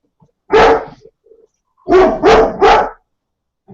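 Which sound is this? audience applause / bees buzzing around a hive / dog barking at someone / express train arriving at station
dog barking at someone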